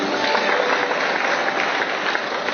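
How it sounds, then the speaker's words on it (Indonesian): Congregation applauding in a church service, a dense steady wash of many hands clapping that holds evenly for the whole span without pause. "kasih tepuk tangan buat dia"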